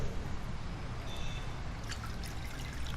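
Brine from fermented hot sauce peppers draining off into a bowl, a continuous low trickle and splash of liquid, moderately close and steady throughout.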